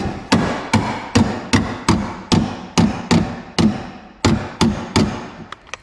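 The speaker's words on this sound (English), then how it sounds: "need a hammer, need to bang one of these" A hammer strikes about a dozen times in a steady rhythm during a car stereo installation in a JZA80 Supra, each bang sharp and ringing, close by, followed by a few lighter taps.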